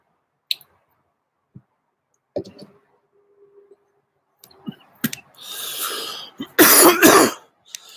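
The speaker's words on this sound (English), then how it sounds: "it's a stoner cough" A few small clicks and throat noises, then a harsh burst of close coughing that builds into several loud hacks at the end.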